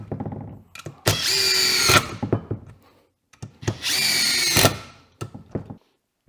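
A Dewalt impact driver drives screws in two loud bursts, each about a second long, with rattling hammering and short clicks and knocks in between.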